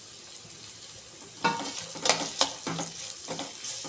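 Coriander leaves sizzle in hot oil for lemon rice, a steady frying hiss with a few brief stirring scrapes over the top.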